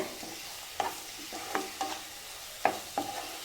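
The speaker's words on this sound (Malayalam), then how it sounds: "ഇതിലേക്ക് ഞാൻ ഒരു സ്പൂണ് മല്ലിപ്പൊടിയും കൂടെ ചേർത്ത് കൊടുക്കുന്നു എന്നിട്ട് നന്നായിട്ടൊന്ന് മിക്സ് ചെയ്യാം നമുക്ക്" Masala with coriander powder being sautéed in a pan, a soft steady sizzle under a few scraping stirs of a spoon, close and fairly quiet.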